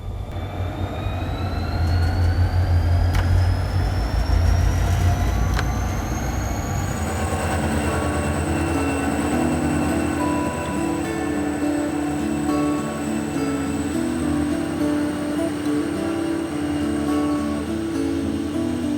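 A train runs along the Gyeongchun line, a curving, graded railway between Cheongnyangni and Chuncheon beside the Bukhan River, rumbling steadily and loudly with a rising whine and a sustained high wheel-squeal tone, with no voices.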